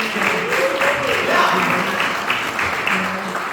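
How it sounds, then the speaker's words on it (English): A crowd at a ring ceremony applauds under a steady patter, with a voice and some tonal sound drifting through the clapping. "of applause for Michael for this ring"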